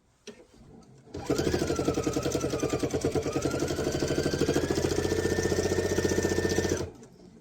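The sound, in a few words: sewing machine needle thudding on fabric, needs replacing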